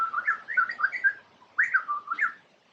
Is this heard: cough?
no